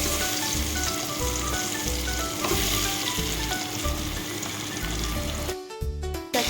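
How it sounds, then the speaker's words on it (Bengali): Boiled eggs fry in hot oil in a wok for an egg and potato curry, a loud, steady crackling sizzle that ends with a brief shuffle as they are stirred. "কড়াইতে দিয়েছি তেল তেলটা গরম হয়ে গেছে"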